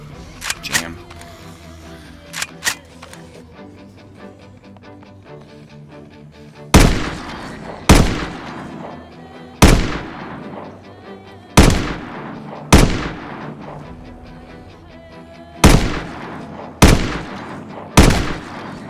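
Single gunshots from a firearm in Project Zomboid ring out one at a time, about eight sharp, loud cracks spaced a second or two apart, each with a fading tail, after a few lighter clicks at the start.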